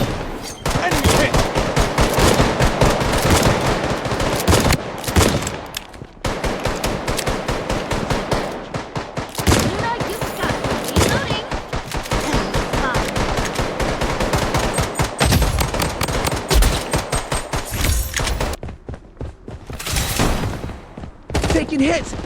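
Rapid automatic gunfire fills a video game match, with dense bursts of shots and brief pauses between volleys. Game voice callouts sometimes sound beneath the shooting.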